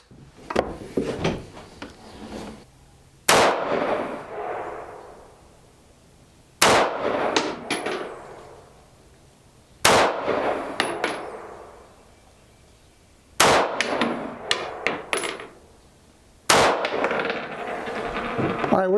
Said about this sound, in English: take some accuracy shots with it at 10 yards